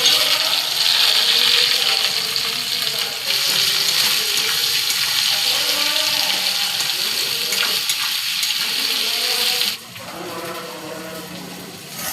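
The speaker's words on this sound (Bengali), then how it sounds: "পেঁয়াজটা তো লাল করে ভেজে নিলাম।" Chopped onions fry in a pan with cumin seeds, a loud, close, steady hiss and sizzle that drops briefly near the end before resuming.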